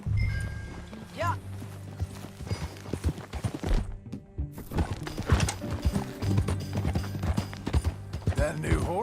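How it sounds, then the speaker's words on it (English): Horse hooves clip-clopping at a steady gallop in Red Dead Redemption 2, with a loud neigh and snorts over the rhythm, while characters talk and ambient game music runs underneath. "That a new horse?"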